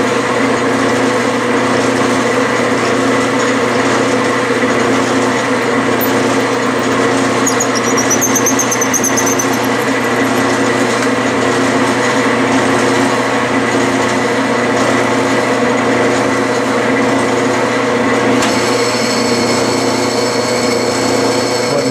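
A Bridgeport milling machine drills with a quarter-inch bit, giving a loud, continuous motor hum with a steady tonal drone. Faint squeals come through now and then and the tone shifts slightly near the end. No one speaks.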